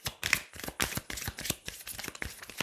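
Tarot cards drawn and laid down over a spread, a quick series of close, crisp paper flicks and slides in uneven rhythm.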